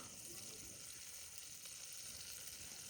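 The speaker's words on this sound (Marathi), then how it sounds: "तेलात शेंग भाजायला टाकली, तेलाची धार टाकली." Cluster beans (gavar) frying in oil, a faint continuous hissing sizzle that stays even throughout with no talking.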